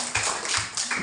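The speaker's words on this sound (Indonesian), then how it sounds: "tepuk tangan sama mereka berdua" Classroom applause during a civics lesson, a short burst of scattered hand claps with uneven rhythm, close and fairly loud.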